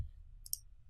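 A single short, quiet computer mouse click lands in a near-silent room as a Save button is pressed, a brief crisp tick over faint low background hum.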